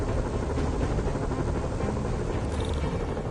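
Helicopter in a PS4 video game, a continuous loud rotor drone and whir that holds steady throughout, with no speech over it.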